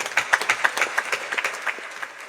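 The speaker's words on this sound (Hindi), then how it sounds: "इन्हें भी तालियां बजाकर हम धन्यवाद देते हैं" A small gathering at a Navratri devotional katha claps in a quick, rhythmic beat to thank the kirtan singers. The sharp, evenly spaced claps ring clearly and fade slightly toward the end.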